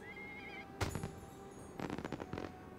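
A donkey in the game ArcheAge brays in short, harsh bursts, with a rasping cry followed by a rapid series of honking pulses against a quiet game background.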